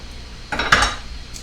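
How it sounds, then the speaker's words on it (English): A knife cuts onions on a kitchen board with a couple of quick, close chops, one sharper clack standing out in a short, otherwise quiet moment. "let's go ahead and cut these onions"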